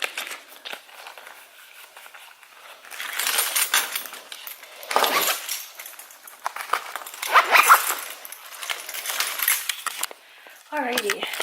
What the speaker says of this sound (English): Oh yeah, I gotta put this money in my wallet.